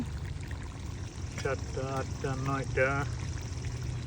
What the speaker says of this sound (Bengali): আমাদের মাংস কষানো হয়ে গিয়েছে এখন আলু দিয়ে দিতেছে